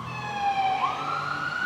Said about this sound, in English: That cop car didn't sound right.